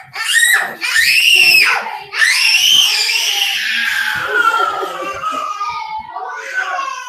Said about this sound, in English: And he screams.